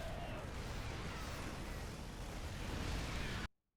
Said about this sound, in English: Look at this cool explosion effect, by the way.